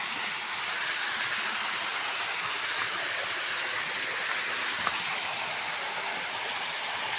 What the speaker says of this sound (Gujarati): આ ઝરણો છે મસ્ત મજાનો